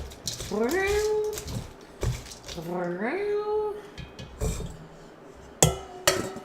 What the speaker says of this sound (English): I bet she would make cute cat sounds when there's shrimps out